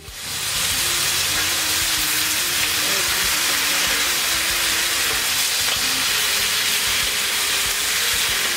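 Tomatoes frying in a pan, a loud, steady sizzle and hiss that starts almost at once and holds evenly throughout, with no voices over it.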